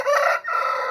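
A rooster crows loudly and close by in a village farmyard where hens and buffalo are kept, one continuous call with a brief dip partway through, heard alone without talk.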